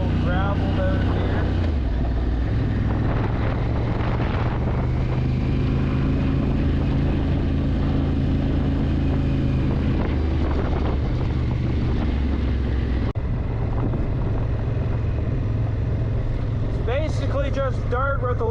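A Honda Africa Twin motorcycle ridden along a gravel and dirt road through game lands, its engine droning steadily under heavy wind buffeting across the microphone, with gear shifts along the way.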